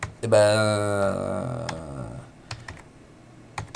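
Keys clatter as a command is typed on a computer keyboard at a Linux terminal, with scattered sharp clicks following a stretch of sustained voice.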